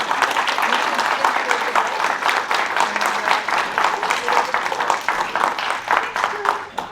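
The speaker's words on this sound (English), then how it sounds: "And these guys get a huge round of applause." Sustained applause from a crowd, dense steady clapping lasting several seconds with a few voices mixed in.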